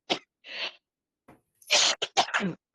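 A short fit of harsh coughing: several sharp, explosive bursts close to the microphone, with brief pauses between them.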